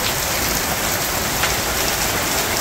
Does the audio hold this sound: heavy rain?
yes